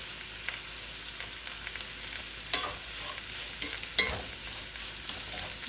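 Seasoned shrimp for tacos, with salt, pepper, garlic pepper and garlic powder, frying in a pan: a steady close sizzle with a few sharp crackles and spatters standing out.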